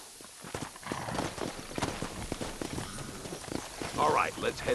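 Horse hooves clip-clop steadily on hard ground at a walking pace in Red Dead Redemption, fairly close, with a brief whinny-like sound near the end.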